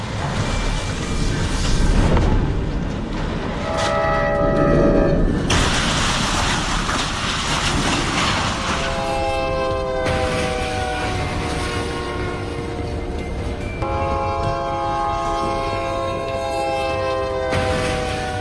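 A train sounds its horn in repeated long blasts during accident footage from Bryan, Texas, where a truck stuck on the tracks was hit by two trains. The horn rings out loud over the heavy roar and rumble of rail cars rushing past.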